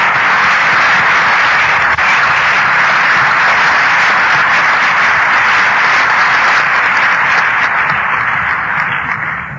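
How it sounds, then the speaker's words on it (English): An audience at a 1984 memorial gathering in Laguna Beach, California breaks into sustained applause, a loud, dense and even roar of many hands clapping together that holds steady before easing slightly at the end. "I think maybe we owe him an applause."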